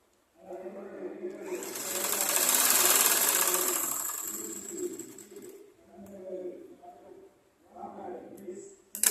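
A sewing machine stitches a blouse in a close, rapid mechanical whir that runs for several seconds, pauses, then returns in a shorter burst, with quiet handling sounds in between.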